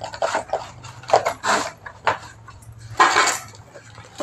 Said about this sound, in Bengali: এই তুই থালা বাজাচ্ছিস কেন?